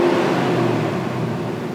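A Toyota Tacoma overland truck's engine runs steadily at a moderate, even rev level, close and continuous with a low hum throughout, no voices present.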